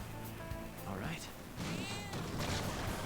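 Cat meowing in Persona 5 Royal, a drawn-out, rising meow heard twice amid game music and effects, with a person talking over it.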